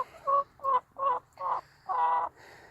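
Backyard chickens in snow, a Buff Orpington among them, give five or six loud, close clucks and squawks in a short rhythmic series, with no talking.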